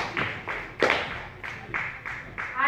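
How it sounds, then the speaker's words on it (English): An audience at a live gathering claps together in short, rhythmic bursts. About seven distinct volleys land roughly every half second, moderately loud and close. "Hebu mpigeni makofi."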